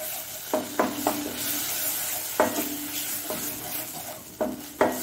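Croaker fish frying in coconut oil in a pan, with a steady soft sizzle broken by several sharp metallic scrapes of a spatula being stirred and turned.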